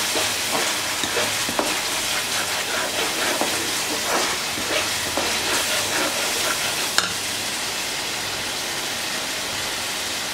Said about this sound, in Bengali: দেখতেই পাচ্ছেন আমার মশলাটা কিন্তু খুব সুন্দরভাবে কষে গেছে আর এটা থেকে ঘি বের হয়ে আসছে